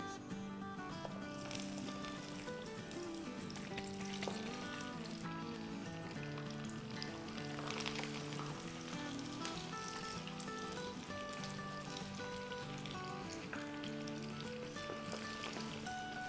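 Kebabs made from leftover rice fry in hot oil with a steady, close crackling sizzle that runs throughout, backed by quiet music; no voices.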